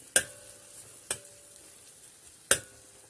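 Turkish-style toast filling mixture stirred in a bowl, three short sharp scrapes or taps of the spoon spaced about a second apart against a quiet background.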